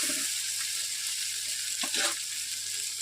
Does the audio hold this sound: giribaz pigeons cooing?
no